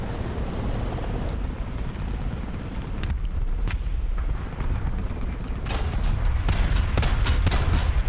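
Tank cannon fire and battlefield clatter in the War Thunder video game, a continuous rumbling bed broken by sharp blasts around three seconds in and a cluster of loud bursts near the end.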